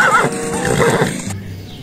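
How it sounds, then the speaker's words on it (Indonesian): A horse gives a loud, close neigh with a wavering whinny at the start, followed by rough, breathy snorting and a broad noisy texture that cuts off abruptly. "Wis, seekor kuda."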